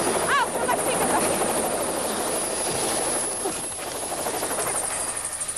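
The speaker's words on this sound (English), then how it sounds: "Could you go back to the helicopter, Annie, please, and take off?" A helicopter takes off in 1980s Hertfordshire, a loud continuous rotor thrum and turbine whine filling the air up close, with brief voices near the start.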